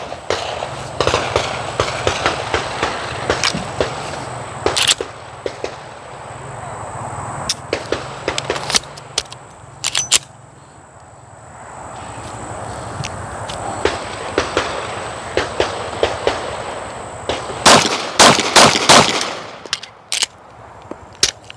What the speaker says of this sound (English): I'm going to start on the center target and just fire maybe 10 rounds-ish